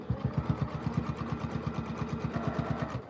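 A sewing machine stitches quilt binding in a fast, even run of rhythmic mechanical clatter, close and moderately quiet, with no talking.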